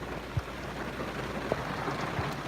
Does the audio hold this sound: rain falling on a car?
yes